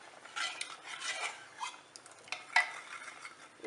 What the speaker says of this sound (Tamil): இதை இதில் நல்லா கொஞ்சம் மசிச்சு விட்டுக்காங்க